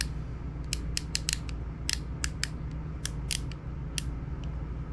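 Quick bursts of sharp mechanical clicking from a Daiwa Salamandura fishing reel's drag ratcheting, in irregular clusters over a low background rumble.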